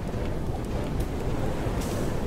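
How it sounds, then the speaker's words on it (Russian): Steady wind gusts buffet a vessel sailing high up in the game FAR: Changing Tides, a dense, continuous rushing noise with no talk over it. "Да, но наверху у нас появился ветер."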